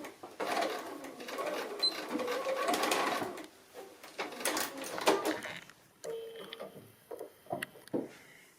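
Sewing machine stitching a seam on a small fabric robin ornament, a steady fast mechanical whirr that runs in bursts and pauses, close and moderately loud, with a few brief clicks as the stitching stops and starts.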